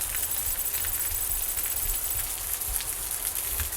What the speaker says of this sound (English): I am digging the rain effects, though.